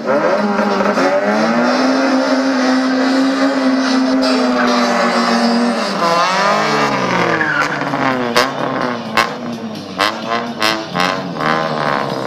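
Honda race cars competing in the Honda 1 category final of a drag race at Kiskunlacháza. A loud engine note holds a steady high drone, then wavers and surges, ending with sharp, rapid bursts.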